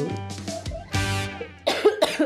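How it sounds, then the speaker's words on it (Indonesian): A close burst of coughing, a few rough coughs in quick succession with throaty sounds between them. "sorry batuk."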